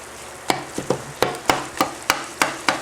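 Hot, spicy pork sausage being chopped into small pieces in a frying pan: a regular series of about nine sharp utensil knocks against the pan, each followed by a brief ring, over a low steady sizzle.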